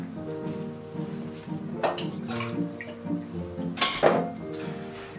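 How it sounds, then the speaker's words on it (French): Two spoonfuls of water splash briefly into a chocolate cake batter for a moist chocolate cake, two short pours about two seconds apart, close by, over a soft steady tonal background. "vous rajoutez 2 cuillères à soupe d'eau"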